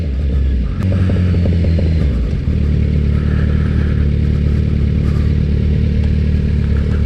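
A Kawasaki Z900 motorcycle engine drones steadily while being ridden, a close, constant low rumble and throb with slight shifts in pitch as the throttle changes.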